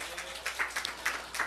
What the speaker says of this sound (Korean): 우리 하나님께 박수 올려드립니다